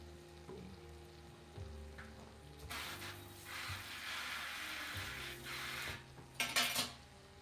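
Bacon fries quietly in a pan, with a soft sizzle and clinks of a utensil against cookware. Louder scraping stir bursts come midway and again near the end.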